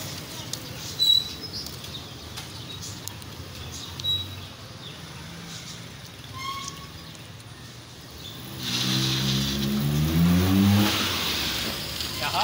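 A 1984 Suzuki FX car accelerates, its mid-pitched engine swelling in the last few seconds after a quieter stretch of outdoor ambience with scattered small noises.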